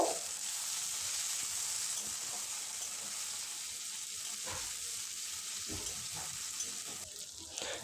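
Tomato and green chillies frying with ginger-garlic paste in a pan, a steady loud sizzle throughout with a few soft stirring scrapes, no talk.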